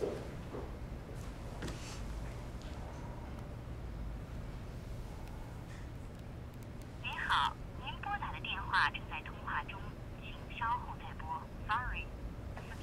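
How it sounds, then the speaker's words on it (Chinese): An unanswered phone call rings with repeated bursts of ringing tone, faint under a steady hiss of background noise and arriving in the latter half. "刚刚打他电话打不通"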